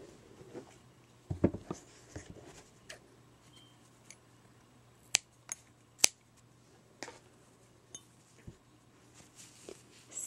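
Scissors snip a crochet yarn tail, giving a few crisp, quiet clicks and small taps scattered across an otherwise hushed, close-up scene with no talking.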